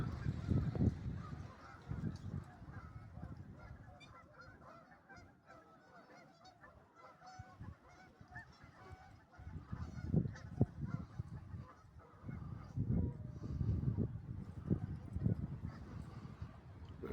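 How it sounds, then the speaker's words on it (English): Waterfowl on the water in open country make repeated honking squawks, loud up close at first, thinning out mid-clip, then building again, over a light breeze on a mild day with the water low and snow melting. "The ducks are squawking."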